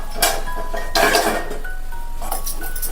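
Onion, turmeric and ginger-garlic paste being mixed in a pan for a Gokarakaya egg fry, with a few bright metallic clinks and scrapes of a spoon against the pan, close and moderately loud, no talking.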